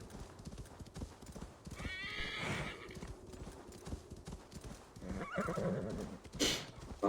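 Horse galloping in Assassin's Creed Valhalla, with a steady rapid clip-clop of hooves throughout and two brief whinnies, under game music and ambient noise.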